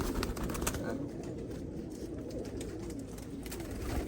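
Pigeons coo softly and continuously at close range, a low murmuring rumble under faint background hiss with occasional brief flutters.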